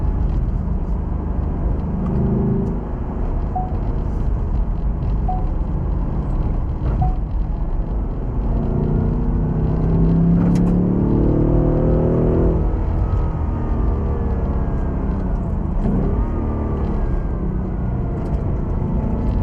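A 2026 Ford Mustang Dark Horse with a manual gearbox hums and rumbles loudly from inside the cabin, rising in pitch as it accelerates through the gears with a brief whine.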